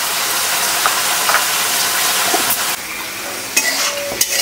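About 1.5 kilos of country chicken with turmeric is stirred in a hot pan: a bright, continuous sizzle broken by several distinct spatula scrapes and knocks close by.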